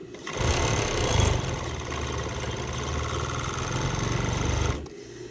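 A serger sewing machine runs continuously while stitching a piping piece to fabric, a close, loud, even whirring hum that starts abruptly, holds steady for over four seconds, then stops cleanly.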